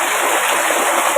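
Heavy rain with strong wind around a house, a dense, loud, continuous rushing wash of water with no pauses and no voices.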